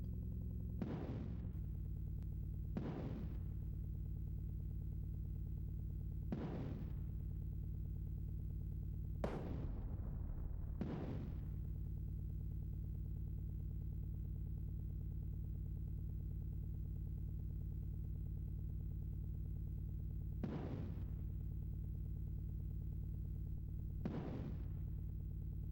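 Missile launches and explosions in the SNES game Super Battletank 2, about eight sharp bursts at uneven intervals over a steady low synthesized engine drone, fairly quiet and with no talking.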